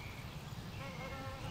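Bees buzzing around flowering St John's wort, a faint continuous insect drone with no pauses through the short stretch, under a soft outdoor background.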